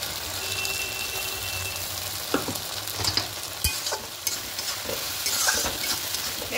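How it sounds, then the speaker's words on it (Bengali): Spices with green chili paste stirred in a frying pan, a constant close sizzle with intermittent spatula scrapes and knocks against the metal, no talking. "খুব ভালো করে সব কিছু মিশিয়ে নেব।"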